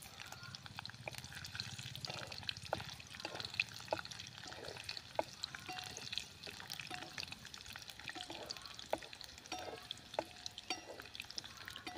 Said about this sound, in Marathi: शेंगदाणे छानपैकी आपले तळले गेले आहेत.